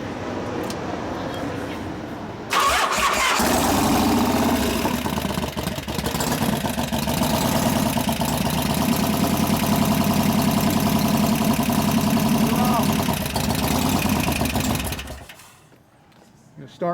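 A 1988 Harley-Davidson FXR motorcycle engine starts up and idles loudly and close for about twelve seconds, then shuts off and runs down. Before it starts, a steady lower background noise is heard.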